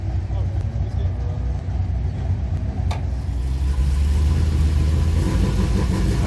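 Porsche 944 endurance race car with its engine running at a circuit, a loud close rumble that swells slightly partway through, with a voice briefly heard over it.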